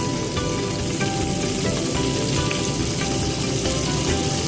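Garlic, green chilies and curry leaves frying in hot oil in a pan give a loud, steady, close sizzle and crackle that runs without a break.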